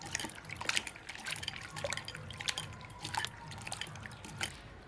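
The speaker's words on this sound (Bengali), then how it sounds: "আলুগুলো ভালোভাবে জল দিয়ে ধুয়ে নেব।" Potatoes being washed in water, with quiet splashing, dripping and trickling in an irregular rhythm, close by and soft, with no talk.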